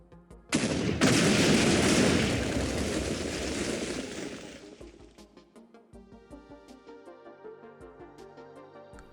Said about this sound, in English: We can see that the core of the explosion is contained in a 20-block radius with a few offshoots 30 and even 40 blocks out.